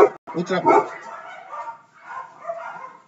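Dogs bark and yip in an agitated burst, loud and close, a few sharp yelps at first, then a longer whining run of barks while another dog passes outside.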